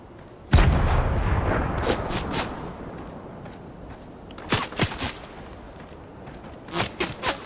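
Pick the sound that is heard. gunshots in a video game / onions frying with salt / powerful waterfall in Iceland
gunshots in a video game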